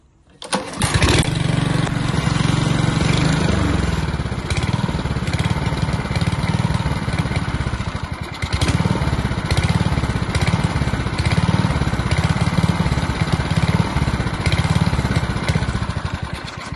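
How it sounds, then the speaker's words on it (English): A small Honda HRD 536 lawnmower petrol engine starts up and runs loudly nearby, its idle rising and falling in uneven surges. "This engine is surging."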